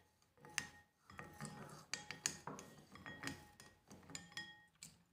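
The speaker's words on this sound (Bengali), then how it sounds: "এবার ভালো করে চিনি, দুধ আর ডিমটাকে খুব ভালো করে আমি মিশিয়ে নেব, যাতে চিনিটা পুরোপুরি গলে যায়।" Sugar, milk and egg whisked together in a bowl for semai vermicelli pudding, a spoon or whisk clinking and scraping against the bowl in quick irregular strokes, close up.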